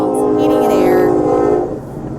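A train sound effect played on a radio show: a loud, sustained horn blast over rolling rail rumble that fades toward the end.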